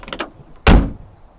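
A car door is shut with one loud, heavy thud that cuts off sharply after a brief rattle of handling, close by with no talk over it.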